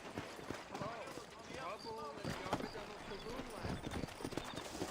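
Horse hooves clip-clop at a steady walking rhythm in the western video game Red Dead Redemption, close and continuous, with someone talking over them.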